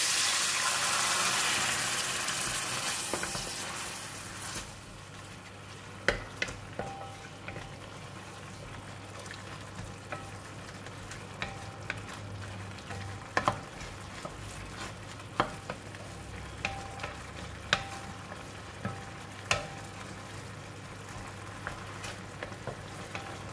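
Gravy with red bean curd sizzles in a pan after water is added, a strong initial hiss settling into a softer simmer broken by repeated sharp clinks of stirring.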